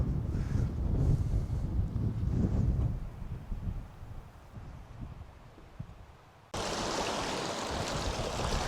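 Mountain stream water rushing near the Abudelauri colored lakes in Georgia's mountains: a steady broadband wash with wind buffeting the microphone, briefly dipping quieter before returning louder and brighter, with no talking.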